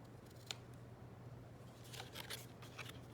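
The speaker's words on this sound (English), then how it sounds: "you want to snip the front corners like so" Scissors snip the front corners of a paper glider, giving a few quiet, crisp cuts: one near the start and a quick cluster later, close and faint with no talk.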